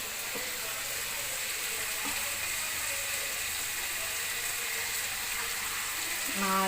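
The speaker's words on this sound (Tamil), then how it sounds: "கொஞ்சம் நல்லா வதங்கட்டும்" Onions sizzle steadily in a hot pan, a continuous crackling hiss with faint clinks near the end, while cooking country chicken curry.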